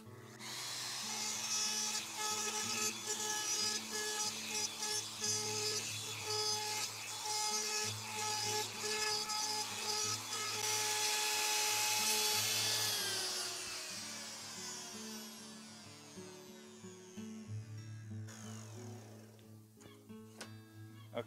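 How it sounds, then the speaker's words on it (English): A router spins up and cuts wood for a chocolate fountain display stand, giving a loud, steady high-pitched whine with a grinding cutting texture that holds for about twelve seconds, then winds down as the bit slows. "Just double checking everything's clear, cable's clear, and now going to start the router off."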